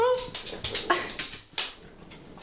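A dog whimpers and yips in a room, a handful of short, high-pitched whines and squeaks in quick succession, close and loud with no talking.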